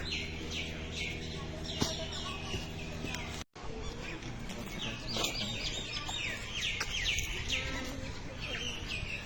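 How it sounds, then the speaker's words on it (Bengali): Birds call and chirp repeatedly around a resort in the Dooars, bright and fairly close over a steady background hum, with a brief dropout partway through. "যে দেখুন পুরো শুধু পাখির ডাক শুনতে পাবেন"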